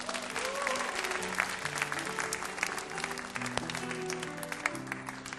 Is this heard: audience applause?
yes